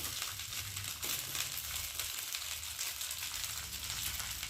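Cooked rice stirred and fried in a pan, with a steady soft sizzle and scraping stir throughout, faint and close, with no talking.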